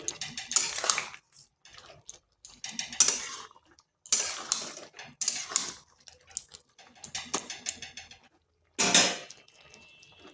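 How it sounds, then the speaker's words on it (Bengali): Eggplant, bitter gourd and lentil bori being mixed in a pan, heard as intermittent clinks and scrapes of a spoon against metal in short bursts with quiet gaps between. "বেগুন, উচ্ছে আর বড়িগুলো। ভালোভাবে মিশিয়ে নিচ্ছি।"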